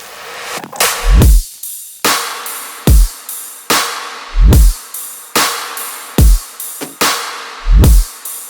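The full drum kit of a future bass track, with deep kicks and sharp snare cracks, bright hats and cymbal washes, thumping along in a punchy repeating groove, close and loud, with no talking.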